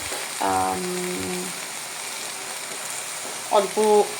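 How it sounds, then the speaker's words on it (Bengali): Jute leaves sizzling as they fry in a pan, a steady close crackle throughout, with a voice briefly heard at the start and near the end. "শাকটা দিয়ে আমি ভালো করে ভেজে নিচ্ছি"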